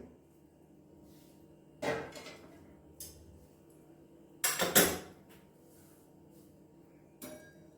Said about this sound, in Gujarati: હવે આપણે ડીશ ખોલીને શાકને ચેક કરી લઈશું.